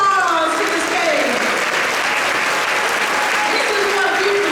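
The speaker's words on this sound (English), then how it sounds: "Let's give him a warm applause to the stage." Audience applause at an all-staff school celebration, a dense wash of clapping filling the room for several seconds as a guest speaker comes to the stage, with scattered voices and cheers mixed in.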